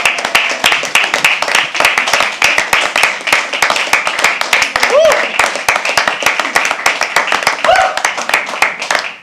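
Audience at a small-venue poetry open mic claps steadily and close by for several seconds, dense overlapping handclaps with a couple of brief voices calling out over them.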